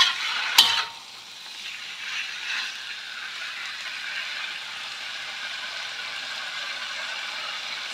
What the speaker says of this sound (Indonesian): Saya masukkan ya jantung pisang yang udah direbus. Tumis sampai bumbunya merata.